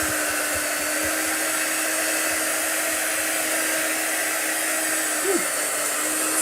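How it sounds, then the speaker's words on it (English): Hot air roars steadily from a nearby heat tool, a constant blowing hiss and hum, with faint low thumps and a brief squeak near the end. "You could use a hair dryer if you don't have like a special crafting heat tool."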